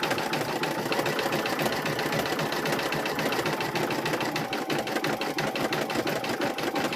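A sewing machine runs continuously while quilt squares are made, a fast, even mechanical whir with rhythmic ticking of the needle, close and steady throughout.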